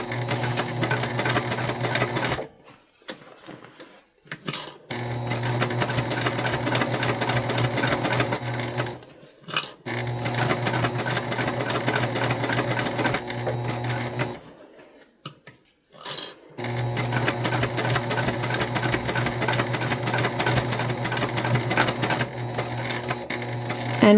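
A sewing machine stitches the side seam of a quilted fabric basket in several fast, loud bursts of rapid needle clatter, broken by short pauses where the stitching stops.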